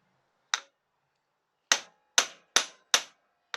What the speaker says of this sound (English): I've got the impact driver. So we're going to give that a couple of whacks with this.